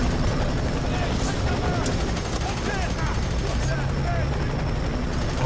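A steady helicopter rotor drone fills the scene in the game F.E.A.R. 3, with faint bursts of gunfire and game effects mixed underneath.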